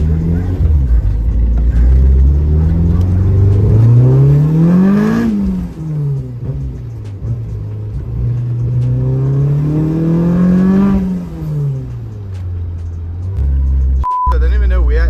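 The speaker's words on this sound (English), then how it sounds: "Anyway, just gonna turn the car around." A car engine revs and whines up and down through the gears as the car is turned around, two long rising and falling sweeps heard from inside, ending with a brief beep.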